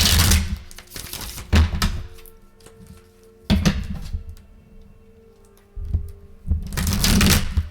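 Tarot cards are shuffled in several brisk riffling bursts, close by, separated by quieter moments with light taps and handling noises.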